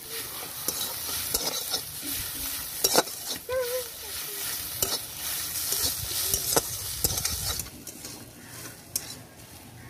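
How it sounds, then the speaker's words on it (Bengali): Mustard seeds are stirred into fried mustard flowers in a pan, a soft crackling sizzle punctuated by frequent scraping and tapping of the spoon against the pan, close and moderately quiet. "এখন দিয়ে দেবো 1 চা চামচ সর্ষে দিয়ে কয়েক সেকেন্ড একটু নাড়াচাড়া করে"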